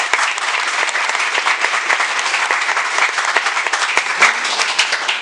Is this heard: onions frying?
no